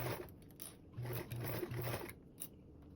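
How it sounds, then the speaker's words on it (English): A sewing machine stitches binding onto a convertible duffle bag with a quarter-inch seam, running in several short bursts of steady mechanical whirring separated by brief pauses, close and fairly quiet. "you're going to sew your binding on with a 1/4 seam allowance"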